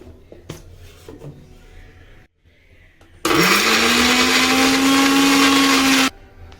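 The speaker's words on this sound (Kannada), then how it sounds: "ಮತ್ತು ಚಕ್ಕೆ, ಲವಂಗ ಮತ್ತು ಬೆಳ್ಳುಳ್ಳಿ ಇಷ್ಟನ್ನು ಫಸ್ಟು ರುಬ್ಕೋಬೇಕು" A kitchen mixer grinder whirs loudly for about three seconds, grinding cinnamon, clove and garlic into a paste, its motor pitch rising as it spins up, preceded by faint handling clatter and stopping abruptly.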